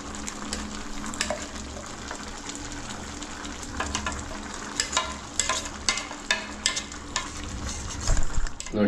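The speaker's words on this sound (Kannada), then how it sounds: "ನೋಡಿ, ಇವಾಗ ನಾವು ಮಸಾಲ ಹಾಕಿ ಅದನ್ನು ಸ್ವಲ್ಪ ಮಿಕ್ಸ್ ಮಾಡ್ಕೊಡ್ಬೇಕು" Ground green masala is stirred into chicken in a pan for a village-style chicken green masala, with a continuous close sizzle and irregular scraping, clacking strokes of a spoon that grow louder toward the end.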